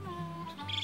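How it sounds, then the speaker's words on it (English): Several birds, blackbirds among them, sing and chirp by a lake, heard from a quiet canoe: short tonal calls and whistles rise and fall over a faint low hum, moderately near and continuous. "Blackbirds I can hear now."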